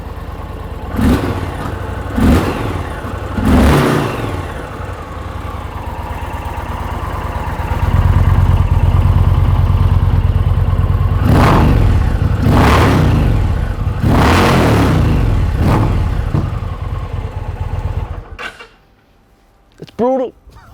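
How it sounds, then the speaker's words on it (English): Indian Challenger motorcycle fitted with a Jekyll and Hyde exhaust, valve closed, revved in several sharp throttle blips over a steady deep idle, loud and close, before cutting out near the end. "this Indian Challenger is also mounted with the Jekyll and Hyde exhaust system"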